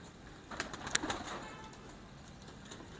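Pigeons coo softly in a home loft, low murmuring calls with faint wing flutters and scattered small clicks, continuous and close but quiet.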